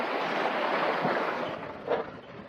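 Waves in rough seas under a strong blow, a continuous loud wash of surf and wind around a boat, with a heavier surge near the end and no voices.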